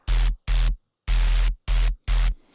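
A heavy deathstep bass sound layers a harsh noise texture over a deep sub bass. It blasts in five loud, evenly chopped bursts separated by abrupt silent gaps.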